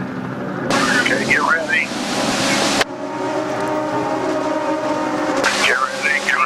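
IndyCar Series race cars accelerating through a right-hand dogleg at the 2007 Mid-Ohio race, a steady broad engine roar filling the clip with rising whines near the start and end, under a commentator's voice.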